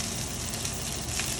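Filet steaks searing in a hot pan, a steady, dense sizzle with crackling spatter that holds loud and even throughout, with no voices.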